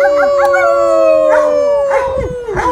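Several people howl together in imitation of hound dogs, long sustained wavering tones layered over one another, loud and close, ending in scattered rising howls.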